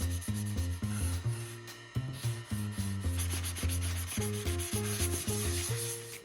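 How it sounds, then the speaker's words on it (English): Sandpaper rubs back and forth over dried DAP Alex Flex spackling on a wall in quick repeated strokes, close and fairly loud, with steady music underneath. "I've overfilled slightly so I can sand it perfectly smooth and have that crack disappear."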